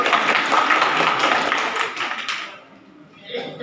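Classroom applause during a Odia literature and culture quiz, a burst of group clapping for a correct answer that fades out after a few seconds, with a faint stray clap near the end.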